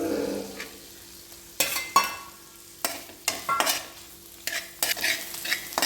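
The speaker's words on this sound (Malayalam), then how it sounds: "ഒരുവിധം വഴറ്റണം" A mixture for chicken cutlets is sautéed in a pan: intermittent scraping strokes of a spoon against the pan rise over a faint background sizzle, coming in several separate bursts.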